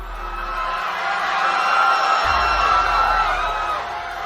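A crowd screams and cries out in panic during a night attack by dark fairies on a fairy realm in a Hindi cartoon story, a dense, steady wall of loud overlapping voices lasting throughout.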